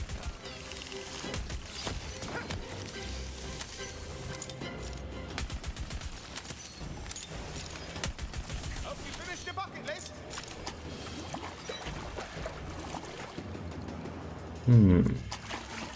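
Rapid bursts of semi-automatic gunfire in Tiny Tina's Wonderlands crackle through dense game music and effects, with someone talking over the action the whole time.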